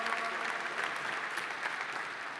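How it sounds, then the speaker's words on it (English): Indoor conference audience at a European party event applauding a minister, a dense even wash of clapping, steady and fairly quiet, with no distinct voices. "Let's applaud him."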